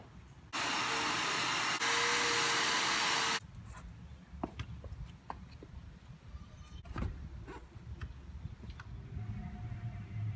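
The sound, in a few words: small 1.5 gallon vacuum cleaning out a car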